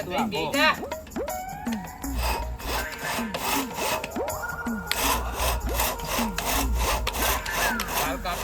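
Handsaw cutting through wood in steady back-and-forth strokes, a rhythmic rasping close by, with people talking over the sawing.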